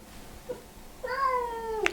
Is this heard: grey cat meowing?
yes